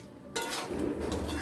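Chicken kosha being stirred in a pan in a home kitchen, with a spoon scraping and clinking against the metal and a low sizzle of cooking meat underneath, close up.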